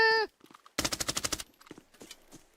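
An MP5 submachine gun fires in a video game, a single crisp burst of about nine rapid evenly spaced shots, preceded by a short tone and followed by faint scattered footsteps and clicks.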